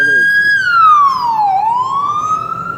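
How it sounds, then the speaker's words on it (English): A police car siren in city traffic, one loud, close wailing tone that slides down in pitch and then climbs back up. "They start getting irritated with the noises, with the cop, cruisers, look."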